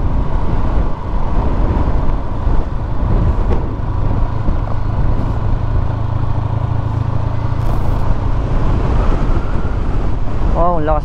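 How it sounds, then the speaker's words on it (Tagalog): Strong wind buffeting the microphone at a hilltop view deck in Dingalan, Aurora, a loud continuous roar and rumble filling the whole stretch without a break. "Wow, ang lakas ng hangin ba?"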